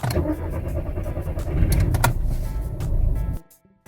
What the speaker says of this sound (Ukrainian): Заводить мотор ремінним приводом. Без привичних звуків стартера, як на інших автомобілях.